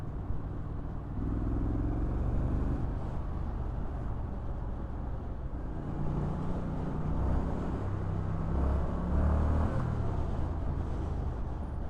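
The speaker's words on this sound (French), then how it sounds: "Je mets un coup d'accélérateur à fond." A 2021 Triumph Street Scrambler engine is opened to full throttle, a loud, close, steady motorcycle roar that holds for the whole stretch, its pitch slowly rising and strengthening toward the end, with no one talking.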